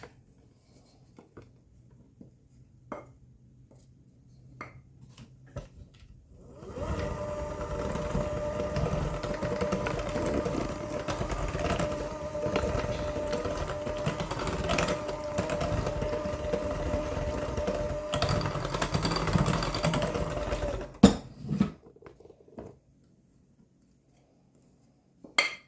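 Electric mixer beating butter pecan cake batter in a bowl, a steady whirring hum that starts after a few quiet seconds, runs for about fifteen seconds with faint clinks, then stops.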